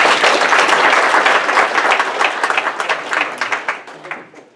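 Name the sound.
audience applause welcoming speaker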